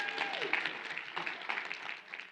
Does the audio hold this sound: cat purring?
no